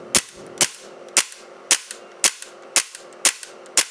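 A Tokyo Marui Hi-Capa race-style airsoft pistol fires about eight sharp, snappy shots in a steady rhythm roughly half a second apart, close and crisp, with no talking.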